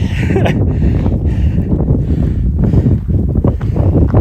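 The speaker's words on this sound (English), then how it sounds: "There's the wind." Strong wind around Mt Helena buffets the microphone in loud, gusty rumbles, roaring continuously with shifting surges close up.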